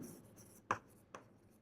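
A pen or marker writing numbers on a board or paper during a math lesson, two quick close scratchy strokes separated by quiet, with no talking.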